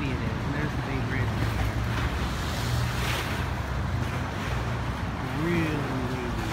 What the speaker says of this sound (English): the bay is really choppy today. Look at how wavy it is.